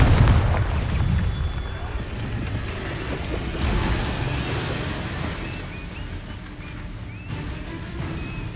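Confringo fire spells blasting repeatedly in Hogwarts Legacy, a dense run of booming explosions and crackling bursts over a continuous loud battle rumble, with no clear gap between impacts.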